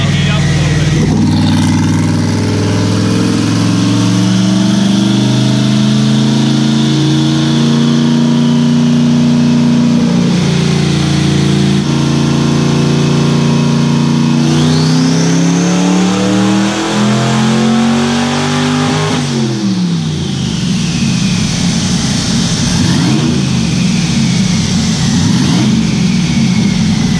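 A turbocharged car engine runs continuously up close, idling and warming up with repeated revs that climb and fall in pitch, loud and steady throughout the long stretch.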